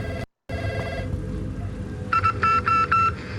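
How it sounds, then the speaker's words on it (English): A telephone rings inside a building in Call of Duty Warzone: four evenly spaced electronic rings, close and fairly loud, following a brief low rumble. "So I go inside and hear the phone ringing, interact with it, and you'll hear more Morse code."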